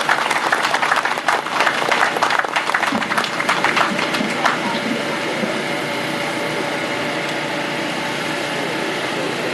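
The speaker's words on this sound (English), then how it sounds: "Please give him a round of applause." An outdoor ceremonial audience claps for the Council President at a garden site dedication, dense applause for about four seconds that thins and fades into quiet background noise.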